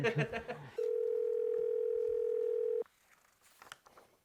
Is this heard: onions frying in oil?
no